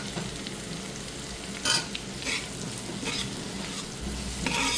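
Green and red capsicum are stir-fried for chili chicken, a quiet steady sizzle in the pan with a few louder stirring scrapes and clanks, no talk.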